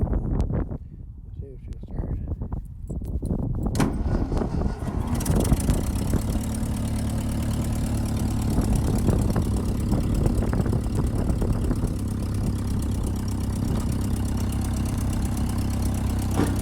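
A 1951 Ferguson TEA20 tractor engine cranks with scattered clatters, then catches and settles into a steady, close, rumbling idle that continues evenly for the rest of the time.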